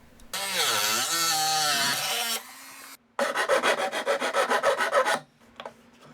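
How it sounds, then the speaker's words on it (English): A Dremel rotary tool cuts a new servo slot into a large 156-inch Legend Hobby L-19 Bird Dog model airplane. A loud, shifting high whine runs for about two seconds, then a rapid pulsing grind follows, with no voices. "Have I mentioned this is why man made the Dremel tool?"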